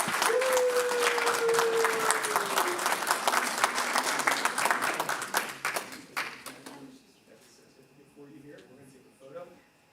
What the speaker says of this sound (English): if you guys can give me a round of applause